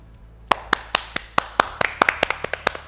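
Hands clap in praise of a student, a run of about a dozen sharp claps that start slow and irregular, then quicken, close by with no talking.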